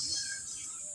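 Birds chirping around a garden on a rainy day, a steady high twittering that continues through the brief moment with no voices.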